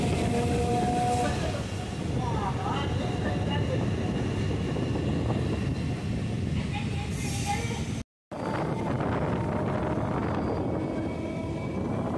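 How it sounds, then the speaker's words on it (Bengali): Howrah-Tarakeswar local train gathering speed, a steady loud broadband rumble of wheels and carriage noise throughout, with a brief dropout near the end before the roar resumes. "তো ট্রেন এখন আমাদের তার পুরো ছন্দে ফিরছে, একদম ঝড়ের গতি তোলার ঠিক আগের মুহূর্ত।"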